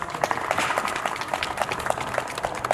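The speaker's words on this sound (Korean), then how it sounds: "박수 부탁드립니다" Audience applause greeting council members introduced one by one at a Gyebaek martial arts festival ceremony, a steady dense patter of many hands clapping at moderate distance with no voice over it.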